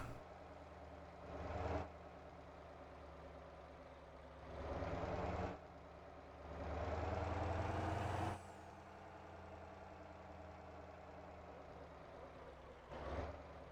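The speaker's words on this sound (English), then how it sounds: "The turbo sounds really good on this truck." A heavy truck engine in the video game Motor Town idles with a deep rumble, rising in several whooshing surges of turbo and air hiss, close and steady throughout.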